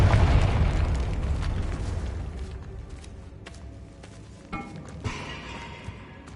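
A Bombarda explosion spell in a Harry Potter video game: a loud, broad blast that decays into a long rumbling tail, followed by a few smaller pops and thuds.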